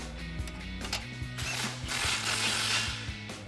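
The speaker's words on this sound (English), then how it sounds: "So we'll use our 15mm socket to do that." A 15mm socket ratchet tightens an exhaust clamp on a 2015–2024 EcoBoost F-150 Magnaflow Street Series exhaust, giving quick, close clicking pawl ticks in short bursts with brief metallic rattles.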